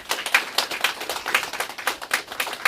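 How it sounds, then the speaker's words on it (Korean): A small audience at a commemoration event for the February 8 Independence Declaration claps with sparse, distinct individual hand claps in an uneven rhythm, close and moderately loud, with no talking. "박수 한번 보내주십시오."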